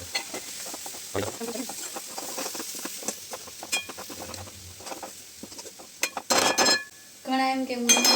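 A metal spatula scrapes an iron griddle while a tomato, chili, ginger, onion and garlic mixture cooks, with repeated scrapes and clinks building to louder, sharper bursts near the end.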